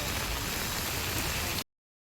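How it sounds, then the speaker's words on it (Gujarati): Steady monsoon rain patters in a continuous hiss on Girnar mountain, then the sound cuts off abruptly. "અત્યારે વરસાદ અત્યારે ચાલુ છે અને પાણી જઈ રહ્યું છે"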